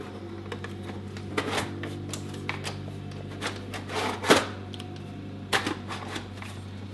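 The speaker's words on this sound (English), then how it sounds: "slide your new optical drive into the slot" An optical drive being slid into a computer drive slot, a series of close scraping slides and sharp plastic-and-metal clicks and knocks, quiet with a steady hum beneath.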